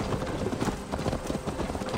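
Horse hooves clip-clopping at a steady, brisk rhythm in Assassin's Creed Valhalla, close and fairly loud, with no voices over them.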